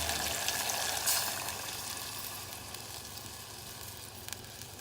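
A steady, loud sizzle of coconut milk hitting hot oil, with a brief surge near the start before settling into a constant crackling hiss.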